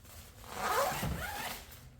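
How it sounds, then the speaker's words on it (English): A zipper on a Suparee Jeep Wrangler weather cover is pulled shut in one smooth, close stroke lasting about a second and a half, rasping louder in the middle and fading at the end. "you just zip it right back up"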